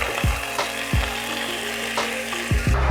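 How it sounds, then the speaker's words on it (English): Potatoes frying in smoking-hot olive oil in a large skillet, a steady loud sizzle with a few sharp scrapes and stirring knocks spaced through it, close and alone. "a large skillet, and we'll add olive oil and start to fry the potatoes"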